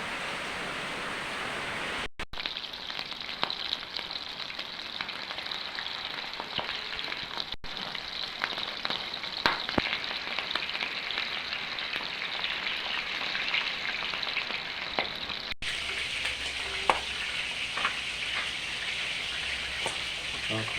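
Meatballs frying in a pan for spaghetti and meatballs, a continuous hissing, crackling sizzle at moderate level that lasts throughout, with occasional faint pops and brief breaks in the sound.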